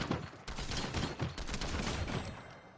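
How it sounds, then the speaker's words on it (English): Rapid gunfire from the Combat Assault Rifle in Fortnite, a dense stream of loud, close shots running without pause. "the next AR is the Combat Assault Rifle"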